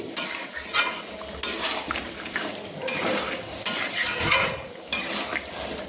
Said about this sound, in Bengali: ম্যারিনেট করা জলটাকে আমি দিয়ে দিলাম, দিয়ে আমি ভালো করে নেড়ে নিচ্ছি